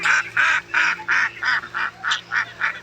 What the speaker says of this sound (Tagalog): May pato rin pala, may itik.